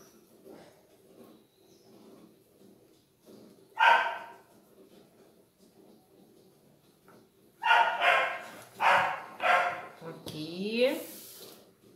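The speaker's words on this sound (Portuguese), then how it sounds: "isso é a minha cadela. Ela não pode ouvir a vozinha da mamãe." A pet dog barks in a home, one sharp bark around the fourth second and then a loud run of barks and yips near the end, with someone speaking at times.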